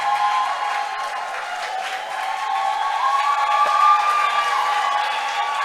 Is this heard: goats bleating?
no